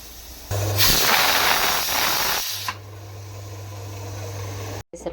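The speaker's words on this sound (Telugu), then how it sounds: "ఒక 2 విజిల్ వస్తే పప్పు అయితే అవుతుంది" A pressure cooker holding moong dal lets out a loud, sustained steam whistle that hisses for about two seconds, with a low steady hum from the stove continuing before and after.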